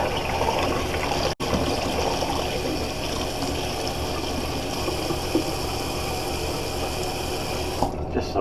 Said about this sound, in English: I'm going to drain the sink. Just rinse off the razor a little bit.